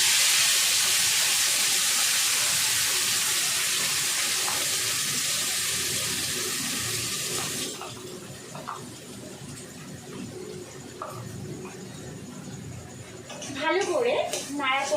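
Mustard-poppy paste with four green chillies hits a pan over a gas flame turned to simmer, giving a loud, steady sizzling hiss that drops off abruptly halfway, then quieter bubbling and stirring with some talk.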